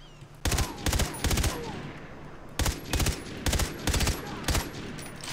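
Gunfire in the video game Far Cry 3, short sharp bursts of two or three rapid shots repeated several times, loud and close, with brief quiet gaps between bursts.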